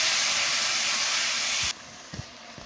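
Vegetables for a cabbage, eggplant and potato chorchori hit hot, spiced masala in the pan, giving a loud, steady frying hiss that cuts off abruptly, followed by a few soft clanks and stirring sounds.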